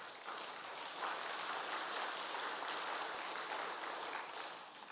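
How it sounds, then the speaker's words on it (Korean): A church congregation applauds in a steady, sustained wash of clapping that lasts several seconds at an even level, heard from a slight distance. "박수 나오시는데요"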